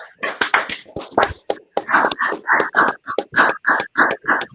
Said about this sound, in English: I will clap it up.